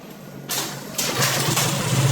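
A motorcycle converted from fuel injection to a carburetor, with no electric starter, is kick-started: a couple of kicks, then the engine catches and settles into a steady, close idle.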